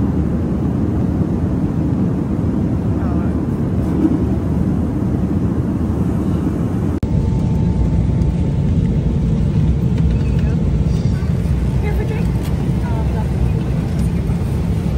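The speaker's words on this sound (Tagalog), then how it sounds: "Okay, so dito ako ngayon sa aeroplano." Steady loud low cabin drone inside an airliner, a continuous engine and airflow roar filling the whole stretch with a brief click midway; a voice speaks faintly over it.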